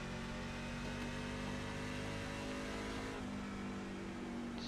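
Race cars in the iRacing simulator rolling into pit lane, heard as a continuous, fairly quiet engine drone with a slight pitch shift partway through and no talk.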